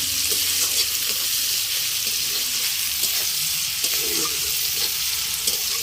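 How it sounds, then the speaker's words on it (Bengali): Onions sizzle loudly in oil in a pan over a wood-fired clay stove, with a constant crackling fry broken by occasional scraping stirs, and no one speaking. "পেঁয়াজগুলো ভাজানো হয় ভাজানো হয়"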